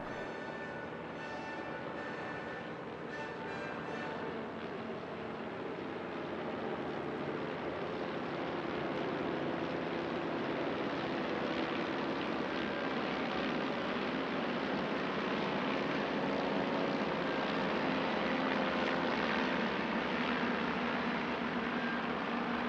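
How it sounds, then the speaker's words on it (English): A dense, continuous engine drone from a formation of about 18 vintage biplanes at an airshow at La Ferté-Alais passes overhead, building steadily louder and fuller over the whole stretch without pause. "Closing the show, a balbo of some 18 biplanes"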